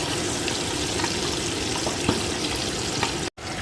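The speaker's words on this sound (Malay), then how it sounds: "Kita masukkan air" Water rushes and splashes steadily into a cooking pot of fried fish bones for fish head noodle soup, a continuous close gushing with faint sizzling underneath, cut off briefly near the end.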